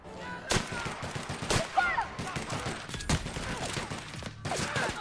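Rifle shots ring out in The Outer Worlds, several sharp cracks spaced irregularly over a busy game soundscape with scattered pops and effects, loud and close.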